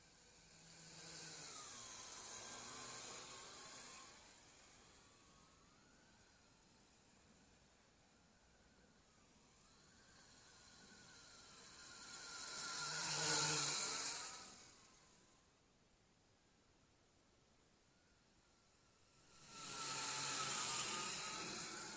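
MJX X101 toy drone, an old first-version quadcopter, flying with a faint whining motor hiss that swells and fades as it passes closer and farther away, no voices.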